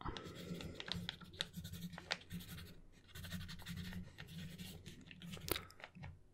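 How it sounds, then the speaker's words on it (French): Soft scratchy strokes of a pen writing on paper, in short irregular bursts close by, fairly quiet. "Je vais noter juste votre prénom sur un petit bout de papier."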